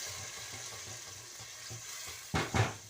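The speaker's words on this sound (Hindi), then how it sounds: "अब ये मैं जो ग्राइंडर किए सारे प्याज वगैरह, लहसुन अदरक हरी मिर्च, वो मैं डाल दूँगी।" Ground onion, garlic, ginger and green chili hit a hot pan while Lahori-style lobiya is being made, giving a faint steady sizzle with a couple of louder stirring scrapes near the end.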